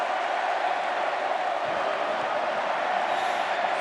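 Full-house Australian football crowd at Patterson Stadium during a West Coast Eagles versus Carlton semi-final, a dense, continuous roar of many voices with chanting, steady and loud throughout.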